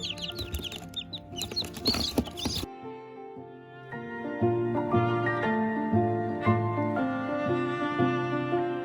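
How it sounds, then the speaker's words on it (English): Day-old chicks in a brooder setting cheep and chirp in a busy, overlapping chorus, preceded by a short burst of handling noise and rustling, close and fairly loud throughout. "here's our little chickies"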